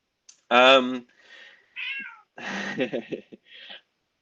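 A house cat in a room gives a series of distinct close meows, a long loud one followed by several shorter, varied calls separated by brief pauses.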